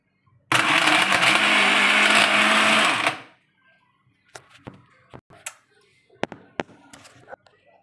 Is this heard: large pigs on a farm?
no